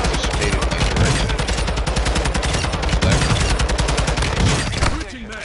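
Rapid automatic gunfire in Modern Warfare III, loud and close, a dense continuous burst of shots lasting several seconds before cutting off abruptly, with a voice shouting over it.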